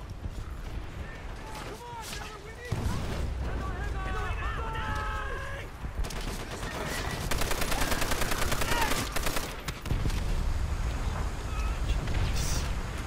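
Bursts of rapid gunfire and single shots from a Call of Duty: World at War campaign battle, loud and dense with mechanical clatter, while a player talks over the shooting.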